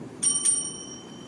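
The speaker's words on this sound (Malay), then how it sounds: "Loceng pertama dibunyikan sekali selepas soalan dikemukakan." Quiz bell at a school religious-knowledge quiz competition, struck twice in quick succession with bright ringing tones that decay into a faint hum, no speech.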